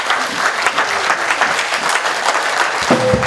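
A church congregation at a French-language worship service applauds together, a dense, continuous wash of clapping that fills the room and holds steady throughout, with a brief tone rising near the end.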